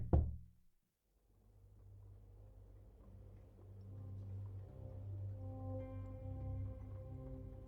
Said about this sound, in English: You get a knock on your door.